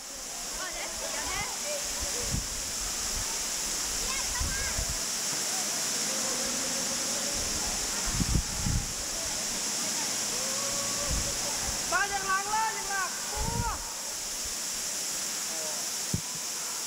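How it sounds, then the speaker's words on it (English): Broadband rushing of the indoor waterfall in the Cloud Forest conservatory at Gardens by the Bay, a steady, loud roar filling the whole clip, with voices and footsteps of visitors scattered over it. "After admiring the waterfall for a moment, we will be heading to the top"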